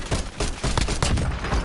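Call of Duty Warzone gunfire crackles in rapid, dense bursts, loud and close, with overlapping shots filling the whole moment.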